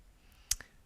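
A computer mouse double click: two quick, crisp clicks close together, faint and alone in a quiet room.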